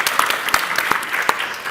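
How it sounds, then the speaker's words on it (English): A conference audience on journalism applauds the organizers, giving a brisk, close burst of clapping with a few sharp individual claps standing out. "Gabi, can we give you an applause for the organizers of this and all your people?"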